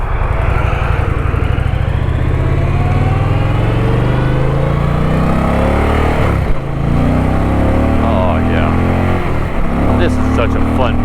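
An Indian motorcycle engine revs loudly while the bike is ridden, its rumbling exhaust climbing and dropping through gear changes with wind rush, and a rider speaks over the engine partway through.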